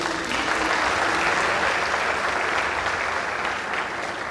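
Audience applause at the Ecrans Noirs film festival as jury members are introduced, a dense, even roar of many hands clapping that holds steady and eases slightly toward the end.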